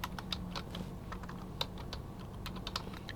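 Rapid clicking keystrokes on a computer keyboard, close and fairly quiet, tapping in a steady, slightly uneven rhythm throughout with no voices.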